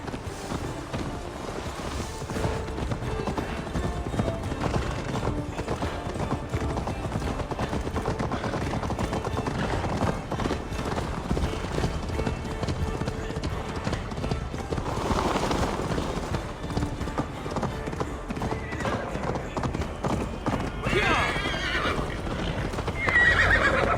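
Hooves pound in a steady galloping rhythm throughout, with a horse whinnying, loud and continuous, in the video game Assassin's Creed Valhalla.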